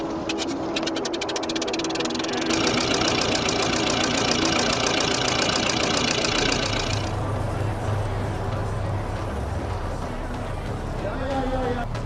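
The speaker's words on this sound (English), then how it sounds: "the dramatic startup of the hand-cranked Lister four-cylinder engine" A hand-cranked Lister four-cylinder engine starts and runs with a loud, steady mechanical clatter and rapid knocking pulses close by, a rough dense roar that shifts in tone partway through, with no talking.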